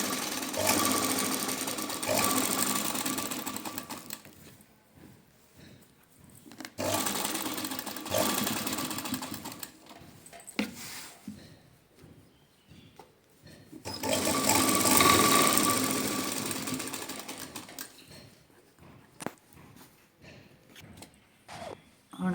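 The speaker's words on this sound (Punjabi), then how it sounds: "ਹੁਣ ਆਪਾਂ ਸਲਾਈ ਦੇ ਉੱਪਰ ਉੱਪਰ ਸਲਾਈ ਲਾਈ ਜਾਣੀ ਹੈ" A sewing machine topstitches a pocket onto trousers in three loud bursts of rapid, close stitching, separated by quieter pauses.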